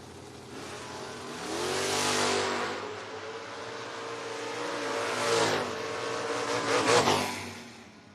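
Two drag racers at a footbrake bracket event, a 1979 Aspen wagon and a 1987 Mustang, launch and run hard, engines revving and swelling loudly as they pass close by, then fading and surging again.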